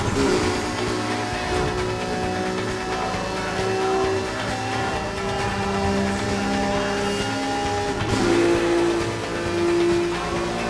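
A car engine races continuously in the Burnout Paradise video game, a mid-pitched revving drone that shifts gears and swells at moderate volume with no voices over it.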